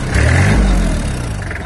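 A Kubota GL300 Japanese mini tractor, 30 hp, with cab and rotary tiller, revs its engine close by in a loud, steady mid-pitched drone that swells briefly early on and then holds.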